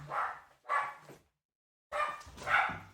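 A dog barks several times nearby in short, clear bursts, a pair of barks, a pause, then two more, with no talk over them.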